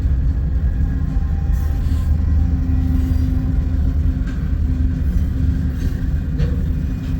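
A Union Pacific 1943 freight train with distributed power units rolls past, a steady close, heavy rumble of wheels and engines holding throughout with faint clatter on top.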